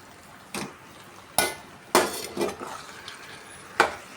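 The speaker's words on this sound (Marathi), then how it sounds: "आता मी टाकते यात चिकन" Chicken pieces drop into a pan of cashew masala, bringing several separate clanks and scrapes of a spoon against the metal pan with brief gaps between them, close and fairly loud, with no one talking.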